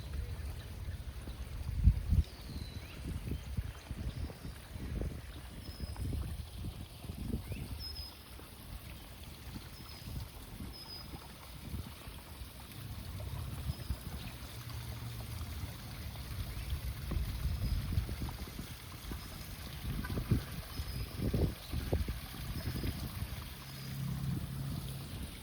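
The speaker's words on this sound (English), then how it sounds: "There's some koi swimming in this pond. And there's a little waterfall there." A small waterfall trickles into a koi pond in a Toronto garden, giving a soft, continuous splashing wash with occasional low rumbles, faint and unbroken by speech.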